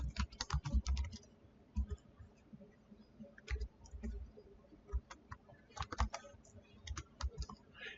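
Code being typed on a computer keyboard for a C# console program, a steady stream of close, crisp key clicks in uneven bursts with brief pauses, no voice over it.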